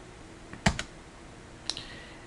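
A few separate keystrokes click on a computer keyboard, two close together and then one more, quiet and sharp against a faint background hiss.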